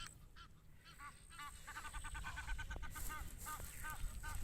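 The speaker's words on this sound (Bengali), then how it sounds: "এই যে অনেকগুলো বিদেশি হাঁস এখানে।" A flock of geese honks repeatedly at Dubai's Love Lake, overlapping nasal calls at moderate distance over steady outdoor background noise and faint wind.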